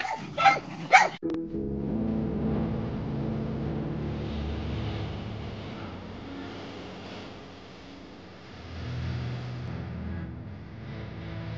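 Small dogs let out a quick burst of sharp barks and yips right at the start, followed by a long, faint, steady rumble like a passing vehicle.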